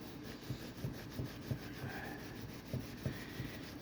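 Sandpaper rubbed by hand over a laser-cut wooden piece, steady scraping strokes with soft regular knocks about three per second, close and fairly quiet.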